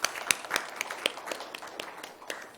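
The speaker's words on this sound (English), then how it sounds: "Give a big round of applause to all of you once again." Conference audience applauding in a hall, a steady patter of many hands clapping at moderate distance, with faint voices mixed in.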